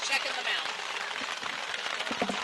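Steady rain falls over an outdoor Little League all-star baseball game, a continuous broadband hiss of drops on surfaces holding at an even level, with faint crowd or player voices mixed underneath.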